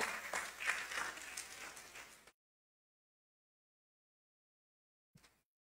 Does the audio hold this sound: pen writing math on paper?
no